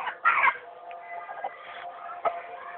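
A rooster and hens cluck close by, with a burst of clucking near the start, softer murmuring clucks through the middle and another sharp cluck near the end.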